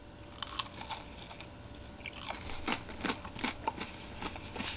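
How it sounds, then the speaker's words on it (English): Several crisp bites and chews into a pretzel-crusted chicken cruncher from Mike's, with repeated crunchy crackles at close range and no talking over them. "Good crust on the outside, nice crunch."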